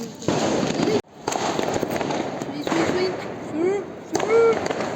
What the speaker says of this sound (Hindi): देख कौन सा जला रहा था, ये जलाओ ना मेरे आगे।